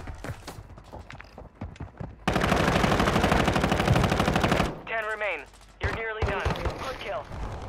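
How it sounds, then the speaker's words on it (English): Video game gunfire: scattered single shots, then a long sustained burst of rapid automatic fire, followed by voice chatter over more intermittent shots. "Taking effective fire."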